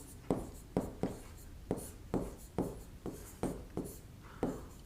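Chalk or marker writes a sentence on a board in a classroom lesson: a series of about ten distinct scratchy strokes, each a short rubbing sound at an uneven rhythm, close and fairly quiet, with no talking.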